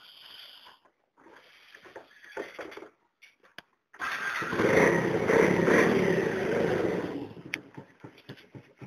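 A Dafra Zig motorcycle with a modified loud exhaust starts after some faint clicking and handling noises, then holds a deep, rumbling idle close by, tapering off near the end.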